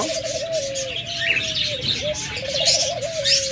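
Diamond doves give soft, repeated rolling coos, several phrases one after another close to the mic, with faint chirps and rustling around them.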